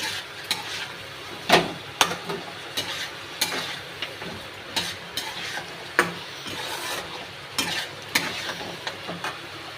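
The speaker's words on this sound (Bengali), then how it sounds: "দইটা দিয়ে দেওয়ার পরে একটু ভালো করে কষে নেব।" Masala with yogurt being sautéed in a pan, with steady stirring scrapes and a soft sizzle broken by sharper spoon knocks against the pan, close and without talk.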